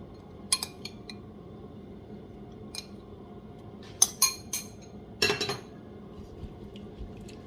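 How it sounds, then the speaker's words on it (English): African nutmeg being minced with a knife or utensil: a few sharp clinks and taps in short bursts, scattered over quiet kitchen background with pauses between strokes. "Then I'm going to mince my African nutmeg."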